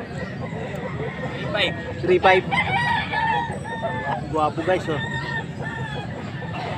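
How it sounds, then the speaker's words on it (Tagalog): Rooster at a Pampanga gamefowl sale, a year-old full stag, crowing in repeated bursts and clucking close by, over a steady hubbub of people talking and bargaining around it. "Magwapo yung manok ni boss."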